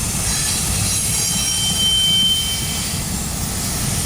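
Close and loud, a freight train carrying Pacer Stacktrain well cars grinds past near Cajon and Colton, its continuous low wheel roar running under faint, high, whining squeals from the rails.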